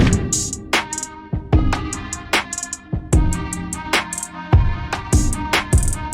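A layered percussion loop from a song with crisp snare hits and two different sizzling open hi-hats over a steady electronic groove, loud and rhythmic.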